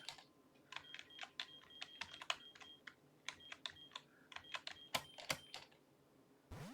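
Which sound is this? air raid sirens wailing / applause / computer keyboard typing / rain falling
computer keyboard typing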